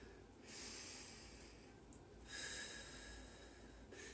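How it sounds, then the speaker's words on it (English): Slow, deep yoga breaths, two long airy inhales or exhales close to the mic, each lasting over a second, quiet and unhurried. "3 deep breaths here"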